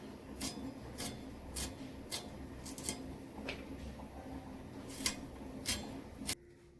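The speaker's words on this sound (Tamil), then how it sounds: "நம்ம இப்போ வெண்டைக்காய் ஃபர்ஸ்ட் கட் பண்ணிக்கலாம்ப்பா." Okra being cut into small pieces with a knife: a slow, steady series of soft, close chopping taps, roughly one every half second to second, in a quiet kitchen with no voices.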